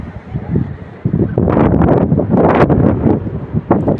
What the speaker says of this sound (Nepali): चिसो हावा अलिक धेरै चल्छ